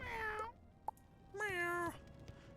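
A cat meows in the video game Wizard101: two clear, tonal meows with a short pause between them, each with a rising then falling pitch, heard alone and close.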